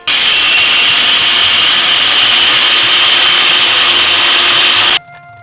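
Roasted grain is being ground into flour in an electric mixer grinder, a loud steady high-pitched whirring and grinding drone that runs unbroken for about five seconds and then cuts off abruptly.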